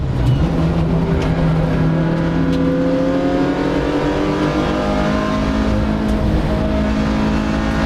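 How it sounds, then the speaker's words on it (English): 750MC Roadsport race cars launch off the start at Silverstone International Circuit, several engines revving hard together and rising in pitch as they accelerate down the straight, a loud, dense roar with no talk. "The cars span out across the width of this Silverstone International Circuit on the Hamilton Straight."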